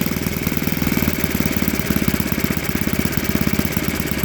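An OS 91 four-stroke model airplane engine with RCEXL ignition, running on camp fuel and turning a 14x7 Master Airscrew antique prop, idles steadily below 2,000 RPM with a constant rhythmic putter, close and loud throughout.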